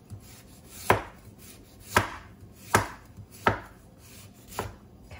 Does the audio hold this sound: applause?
no